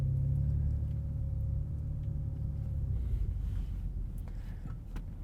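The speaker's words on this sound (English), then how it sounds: "I'm going to allow this car to go by." Another car drives past, a low rumbling swell heard from inside a 2020 BMW M340i xDrive whose steady engine hum drops away midway through.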